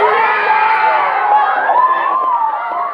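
A studio crowd on a televised talent show erupts in loud, sustained cheering and shrieking whoops, a dense continuous roar that holds steady for the whole stretch before easing slightly at the end.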